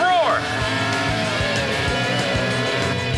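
Formula 1 race car engines in a cartoon race start, a steady loud roar with a brief rising whine at the beginning, heard under background music and effects.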